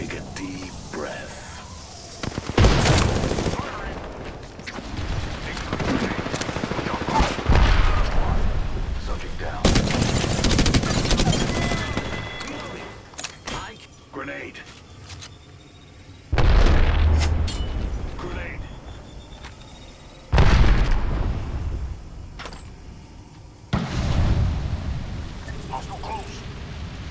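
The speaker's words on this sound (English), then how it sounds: "He just came up and shot us." Apex Legends firefights erupt in repeated loud bursts of gunfire and heavy booms, several separate volleys spread across the stretch, with game ambience and occasional voices between shots.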